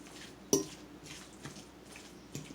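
Turkey meatloaf mixture with salsa, peppers, onions and tomatoes being stirred in a bowl: faint wet squishing with a sharp clink of utensil against the bowl near the start and softer knocks later, no talking.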